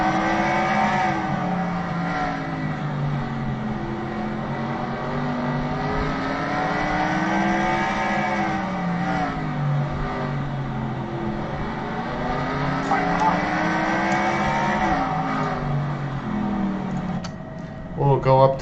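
Race car engines circling a tight little dirt bullring oval at the NORL Busch Bonanza Kubota 300 feature, a loud, sustained engine drone that swells and dips lap after lap, with a voice faintly present at times.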